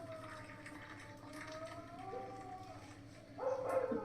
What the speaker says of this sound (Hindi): कुत्ता रो रहा है।